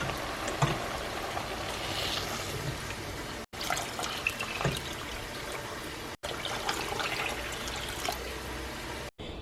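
Six cups of water poured into a soup pot already holding crushed tomatoes and bouillon cubes, a steady splashing trickle in a few continuous pours with short breaks between them.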